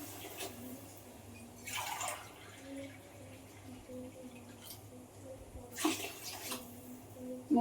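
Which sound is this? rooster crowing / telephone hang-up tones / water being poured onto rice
water being poured onto rice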